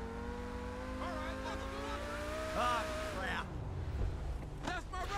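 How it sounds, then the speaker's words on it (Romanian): A car in GTA 5 accelerates as its engine note climbs and then drops through a gear change, with tire noise toward the end, all fairly quiet and overlaid with game sounds. "Doar am accelerat mașina și m-a scos asta"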